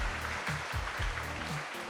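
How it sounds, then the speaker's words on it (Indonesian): Audience at an outdoor community event in Kendal clapping for the guests and officials, a loud sustained burst of applause mixed with low rumbling crowd noise and music-like thumps. "Boleh tepuk tangan buat Anda semua."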